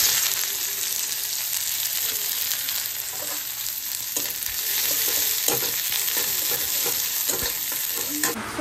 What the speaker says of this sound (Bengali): এখানে আমি তেল গরম করছি, তেলটা গরম হলে এখন পেঁয়াজ ভাজবো সবার আগে।